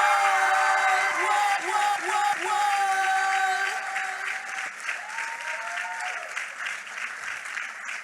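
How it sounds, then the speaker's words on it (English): A college event audience applauds and cheers, sustained clapping with a few whoops, while a tonal musical sting sounds over the first half before the clapping carries on alone. "Can we have a wonderful round of applause for that?"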